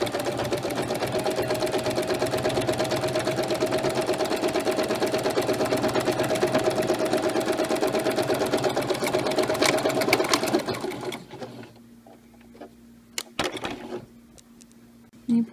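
A sewing machine stitches a mermaid tail together with a 5/8-inch seam allowance, a loud, steady, close mechanical whir running continuously for about ten seconds, then stopping, followed by faint clicks and handling noises.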